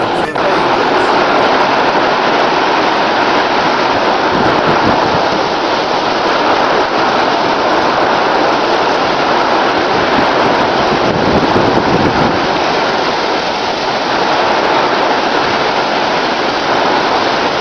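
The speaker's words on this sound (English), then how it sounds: "here comes the wind." Strong storm wind in Shepparton roars steadily and loudly throughout, buffeting the microphone with continuous rushing gusts.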